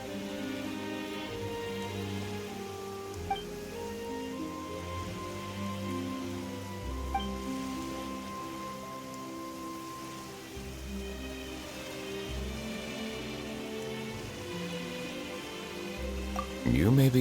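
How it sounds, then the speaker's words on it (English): Rain falls in the video game Genshin Impact, a steady patter over soft background music. "Why is it raining all of a sudden?"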